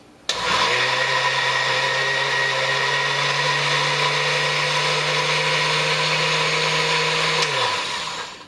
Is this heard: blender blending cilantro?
yes